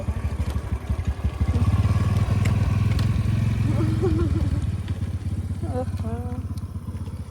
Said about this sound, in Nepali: हाम्रो आमा चाहिँ स्कुटरमा सुरुरु